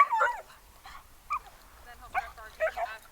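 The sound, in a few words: dog barking and whimpering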